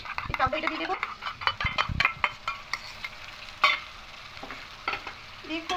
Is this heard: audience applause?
no